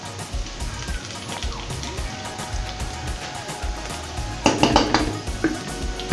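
A lid is set onto a cooking pot of chow mein noodles left steaming on low heat, one sharp metallic clank over steady background sizzling from frying vegetables, with no talk.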